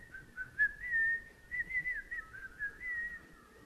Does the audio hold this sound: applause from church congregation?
no